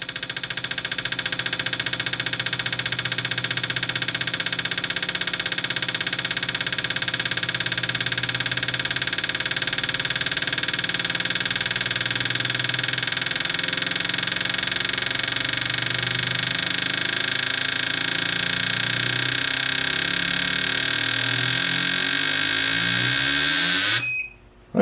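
An AUTOOL CT 160 injector cleaner and tester runs its accelerator test, a loud continuous mechanical drone with rapid pulsing clicks that speed up steadily, then cuts off abruptly at the end.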